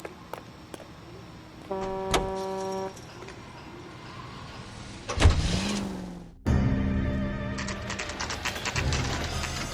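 Car driving in L.A. Noire, with an engine hum, a brief horn toot, then a rising rev and steady motor noise, loud and close, with no talking.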